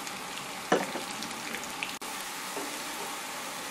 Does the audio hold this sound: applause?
no